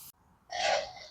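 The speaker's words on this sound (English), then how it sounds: "Let me get some brake clean so I can wipe that all off" Short hiss of aerosol brake cleaner sprayed from a can onto a rag, one brief close burst after a moment of quiet.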